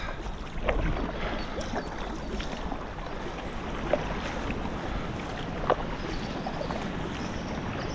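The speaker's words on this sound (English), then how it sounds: "Big rapid coming up" Rapids on the Berner Aare roar past a packraft at a collapsed old weir, a dense, steady rush of water that stays loud and close the whole time, with a few brief splashes standing out.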